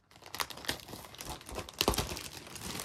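A package is cut open and its plastic wrapping crinkles and tears in quick, close, uneven bursts, with no talking.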